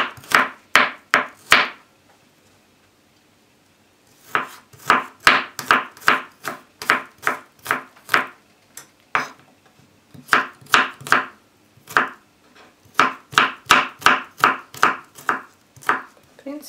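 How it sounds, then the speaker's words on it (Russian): Garlic chopped finely with a knife on a wooden board for goulash, heard as rapid, crisp, evenly spaced knocks in three long bursts with short pauses between them, close and clear against a quiet background. "чеснок нам необходимо тоже мелко порубить."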